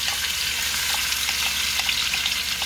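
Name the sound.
onion frying in butter and grease in a pot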